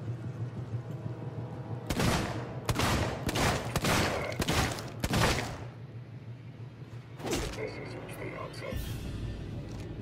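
Gunfire in the survival horror game Alien Isolation, a series of loud sharp shots in quick succession followed by one more blast, with someone talking over the background hum.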